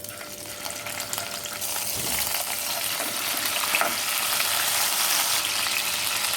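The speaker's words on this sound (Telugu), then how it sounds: "చికెన్ అలా వేగుతున్నప్పుడే కరివేపాకు కొంచెం ఎక్కువ వేసుకుంటే బాగుంటుంది." Boiled chicken frying in oil in a pan, a continuous crackling sizzle that swells slightly louder as it goes, alone without any voices.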